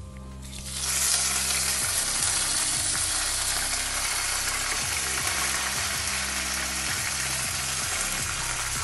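Spices and curry leaves fry in hot oil for a fish curry, starting with a sudden loud sizzle that settles into a dense, steady crackling hiss with a faint mechanical hum beneath.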